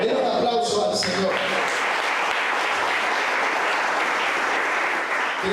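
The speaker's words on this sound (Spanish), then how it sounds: "Den un aplauso al Señor." A church congregation bursts into loud, dense applause that opens with a few voices and cheers, then settles into sustained, even clapping that fills the room.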